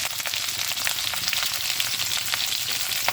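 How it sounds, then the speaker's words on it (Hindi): Chicken and capsicum sauté in a hot pan with a steady, close crackling sizzle, sharp spits popping through it, and no talking. "तो ये जो है ना हमारा सौते हो रहा है, हल्का सा ब्राउन हो गया है।"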